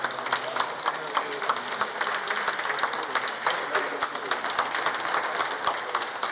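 Prime Minister Amadou Gon Coulibaly enters the presidential palace to a thick, continuous wash of applause from a crowd, steady and moderately loud with scattered sharper claps and some indistinct murmuring mixed in.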